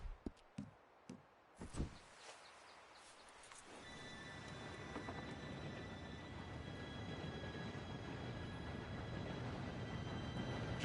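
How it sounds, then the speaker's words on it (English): Steam train in Red Dead Redemption 2 rolling in after a few sharp knocks, a steady low rumble and rattle building from about four seconds, with faint whistle-like tones sustained above, no talk. "Train should be here any minute now."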